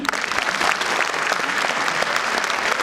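Audience applause at a school annual day celebration in Maharashtra: dense, steady clapping from a large crowd fills the whole stretch at an even, lively level.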